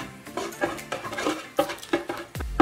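Metal utensil scraping and clattering in a pan while minced ginger is sautéed for spicy Filipino bopis, a series of close, uneven stirring knocks with a heavier clank near the end.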